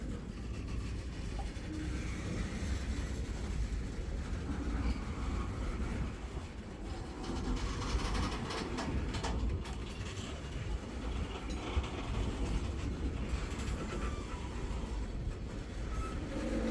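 A slow Wheeling & Lake Erie freight train rolls past with an empty tanker car, making a steady, continuous rumble and rattle at moderate distance with no break and no voices.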